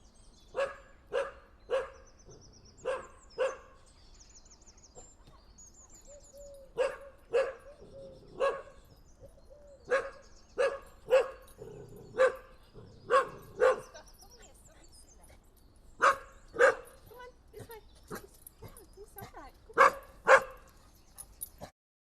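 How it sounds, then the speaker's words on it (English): A dog barks in repeated short bursts across an outdoor field recording, clustered in groups with pauses between them, moderately distant against quiet background. "I want to extract the dog barks"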